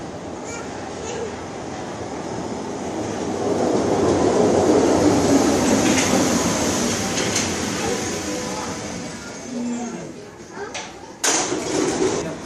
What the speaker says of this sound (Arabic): شاهد القطار، اجى القطار.